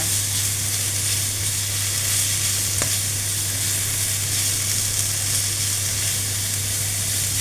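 Vegetables for fried rice sizzling in a pan, a loud, even, continuous hiss with a steady low hum beneath and one quick tap, no voices.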